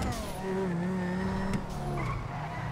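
A car is driven in a video game, its engine droning steadily with a rising and falling pitch and tire squeal, loud and close over the whole stretch.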